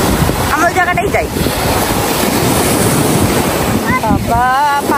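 Rough, churning sea waves at Jomtien Beach in Pattaya, a loud continuous roar of surf with strong wind buffeting the microphone, while people talk over it.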